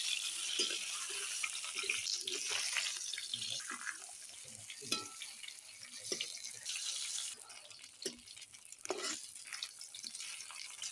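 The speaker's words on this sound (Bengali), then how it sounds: "তেল গরম হয়ে মাছগুলো দিয়ে দিলাম।" Tilapia pieces fry in hot oil, giving a faint, steady sizzling hiss broken by occasional soft crackles and pops.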